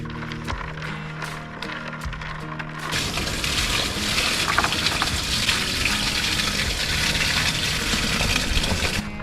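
Water gushes at high flow from a hose or tap into a tipped bottle of chlorine tablets being rinsed while shock chlorinating a new well, a steady loud splashing rush that starts abruptly partway in and continues to the end.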